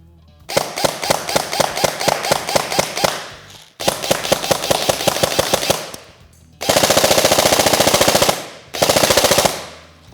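Classic Army DT-4 double-barrel airsoft AR with tracer units firing in bursts, rapid loud mechanical clacks in four strings separated by short pauses, the last two faster and denser.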